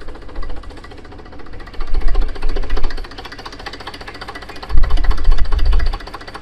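An Eicher 3709 tractor with an air-cooled diesel engine runs nearby in a steady, chugging rhythm, with its low rumble swelling louder in two stretches before settling back to idle.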